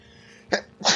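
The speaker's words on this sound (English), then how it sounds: "And I'm going to sneeze." A person sneezes during a SimCity gameplay session: a quiet lead-in breath, then a sharp explosive burst followed quickly by a second louder, noisier burst, close to the microphone.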